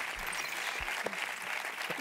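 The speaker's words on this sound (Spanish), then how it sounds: "Fuerte aplauso para mí." A talk-show studio audience claps for the presenter, a steady soft wash of applause that holds evenly throughout with no distinct voices, heard from a slight distance.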